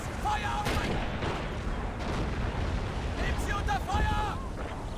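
Explosion tearing apart an anti-tank gun in the WWII strategy game Men of War: Assault Squad during the June 1941 invasion of the USSR, a dense rumbling battle din with booms and gunfire throughout, with faint voices underneath.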